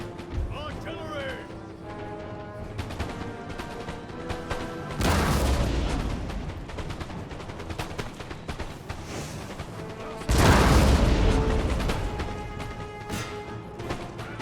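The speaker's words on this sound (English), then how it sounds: "Artillery!" Artillery fire in the Napoleon Total War video game: two heavy booming cannon volleys land several seconds apart over a steady din of battle and game music, with a voice talking throughout.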